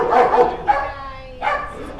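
Several dogs, including pit bull terrier mixes, bark loudly in bursts inside an animal shelter near the large dog play yard, with a brief voice in between.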